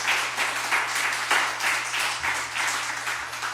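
A church congregation claps together at a Wednesday worship service, an offering of thanks and glory; even, sustained applause continues throughout at a moderate distance.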